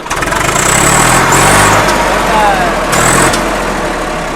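A tractor engine rumbles steadily at idle, loud and close, with a high whine rising twice and voices talking over it.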